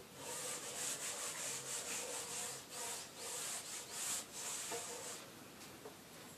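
A board being rubbed clean by hand in a classroom, giving a soft run of scratchy, rhythmic back-and-forth strokes, close and fairly quiet, with no talking.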